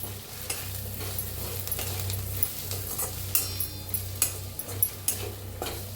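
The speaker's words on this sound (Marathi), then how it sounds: "तुम्ही आता सगळे मिक्स करून घेऊया" Sambar ingredients mixed in a pan with oil: a soft continuous sizzle under scraping, stirring strokes, with a few sharp metallic clinks of the spoon against the pan toward the end.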